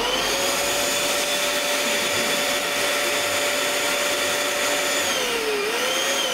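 A steady, loud mechanical whir of an electric pump filling a 15-inch latex balloon with air runs throughout, with a droning tone that dips slightly near the end as the balloon stretches.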